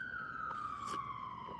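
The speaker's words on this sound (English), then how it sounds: "Sorry for the sirens." A single emergency vehicle siren wails steadily outside in the distance, its tone sliding slowly downward, with faint background noise and no talking.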